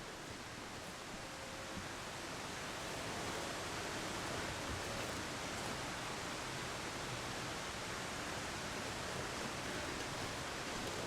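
Steady roaring rush of a waterfall in the survival game The Long Dark, a constant broadband wash of falling water that holds even and close with no voices or breaks.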